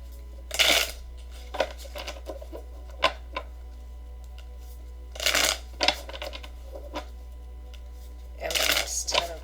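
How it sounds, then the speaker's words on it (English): Tarot cards are shuffled by hand in short riffling bursts, three main rustling flurries with small taps and clicks between, close up against a low steady hum. "And I'm going to keep shuffling."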